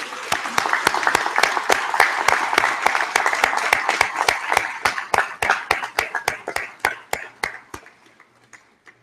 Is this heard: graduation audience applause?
yes